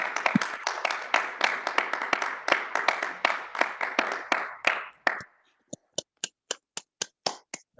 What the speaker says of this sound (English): And you're clapping out there.